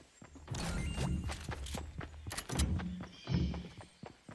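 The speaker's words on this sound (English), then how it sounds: "Footsteps are so tremendously loud in this game" Heavy, booming footsteps thud close by in a dark stretch of a video game, a handful of loud irregular impacts with clacking transients and brief gaps between them, with no voices.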